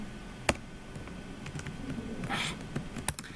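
Keys clatter in short uneven bursts on a computer keyboard, with a few sharper isolated clicks, close and moderately quiet; no speech.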